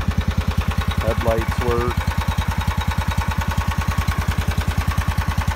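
A Kubota T1560 lawn tractor engine idles steadily with a fast, even chug throughout, close and loud, while a person speaks briefly over it.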